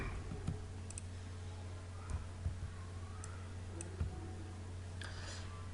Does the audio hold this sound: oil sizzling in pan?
no